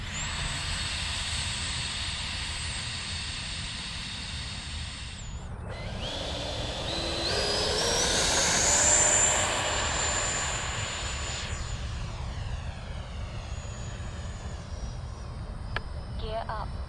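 E-flite F-16 70mm Thunderbirds RC electric ducted fan jet whines in a high steady pitch, then swells louder and sweeps past overhead before fading as it flies away, under continuous outdoor background noise.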